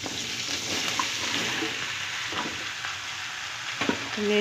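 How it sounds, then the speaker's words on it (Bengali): Chopped bottle gourd hitting a hot pan with cumin seeds and slit green chillies, giving a loud, continuous broad sizzle and frying hiss, with a few soft stirring scrapes near the end. "এবারে কেটে রাখা লাউটা দিয়ে দেব।"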